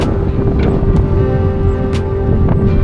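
Strong wind buffets the microphone on a long-distance bike ride in the UK, a loud, continuous low roar with steady rumbling gusts and no speech.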